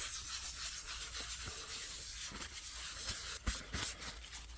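Hand sanding Bondo filler on a Jupiter 2 model with 400 grit sandpaper, a soft steady rubbing hiss with faint scratchy strokes, quiet and close.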